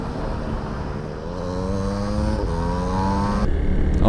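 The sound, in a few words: Kawasaki W175 motorcycle engine revving through gears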